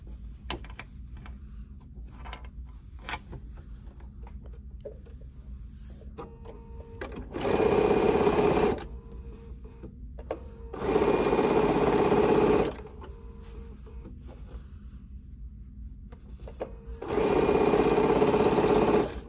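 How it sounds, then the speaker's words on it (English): A sewing machine stitches fabric pieces for a steampunk dopp bag in three loud sustained whirring runs of about one to two seconds each. Quiet handling and rustling noises fill the gaps between runs. "now I'm just gonna continue stitching this to that longer piece"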